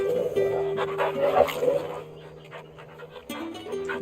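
A dog pants in the video game Final Fantasy XVI, quick breathy huffs close up, mixed with light in-game sounds and a voice speaking over it.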